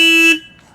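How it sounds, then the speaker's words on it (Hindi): A Royal Enfield Classic 350 motorcycle horn from the 2021 model gives one loud, steady electric honk of about a third of a second, then cuts off into quiet. "इसका हॉर्न का साउंड"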